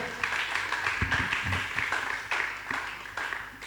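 A church congregation applauds in a steady, continuous patter of many hands clapping, moderately loud and filling the room without pause.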